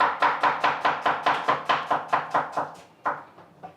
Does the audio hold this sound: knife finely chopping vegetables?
yes